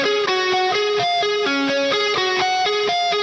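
A rock song led by a bright electric guitar playing a fast, repeating arpeggiated riff, loud and continuous.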